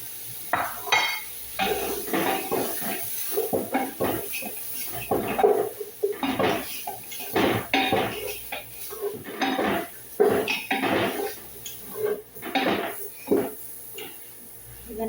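Spices being stirred in a cooking pot, with repeated scraping and clinking of a utensil against the pot in steady bursts over a faint sizzle, close and fairly loud.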